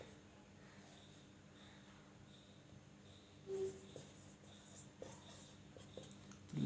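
Pen strokes of shorthand lettering on paper, faint and soft, with scattered light scratches over a quiet room hum and a slightly louder touch near the end.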